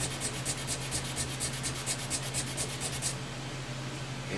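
Rough-grit sandpaper rubbed briskly along a walnut Fender Strat guitar neck makes a quick, steady run of rasping strokes for about three seconds, then stops, leaving a low, steady hum close by.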